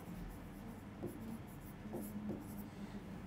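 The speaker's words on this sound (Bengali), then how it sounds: "ছেদবিন্দুতে এটা ভালো করে লিখি" A pen moves across paper during a coordinate geometry lesson, producing soft, faint scratching strokes in short bursts over a quiet room background.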